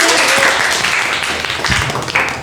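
Classroom students clapping for a classmate, a dense burst of close hand claps that continues steadily through the short moment before fading slightly.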